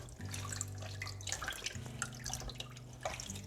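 Water drips and trickles from blanched spinach leaves draining in a kitchen, a quiet, steady run of splashy droplets over a faint background hum.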